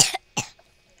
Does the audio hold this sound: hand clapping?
no